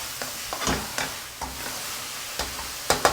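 Ingredients stir-fried in a pan while cooking a Thai jaew dipping sauce, a soft, steady sizzle broken by several sharp scraping clatters of the spatula against the pan, close but fairly quiet.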